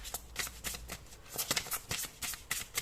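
Tarot cards are riffled and slapped together in quick uneven bursts, crisp papery flutters up close, with soft handling noise between them and no talking.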